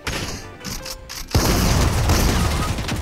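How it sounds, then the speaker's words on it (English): A rocket explosion hits a wall in Fortnite, a sudden loud boom that cuts through the ongoing game noise and leaves a sustained rumble afterward. "That rocket came in, hit the wall above me, and killed me"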